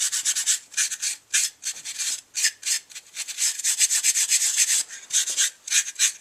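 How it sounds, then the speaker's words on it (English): Abrasive pad scuffing a polymer AR lower receiver before coating, rapid back-and-forth scratchy rubbing strokes in uneven bursts, close and fairly loud, with no talking. "you should kind of scuff it up a little bit with this pad that they give you"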